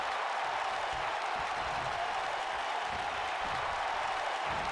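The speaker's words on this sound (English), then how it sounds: "You hear the cheers from Riddle finding something in him." An arena crowd roars during a WWE 2K19 Universe Mode wrestling match on SmackDown Live, a dense, steady wall of cheering and applause that holds at an even level throughout, with no distinct voices standing out.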